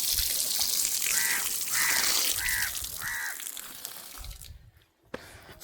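Water runs steadily from a foot-washing tap at a temple, a broad hiss that fades near the end, while a few crow caws sound faintly nearby.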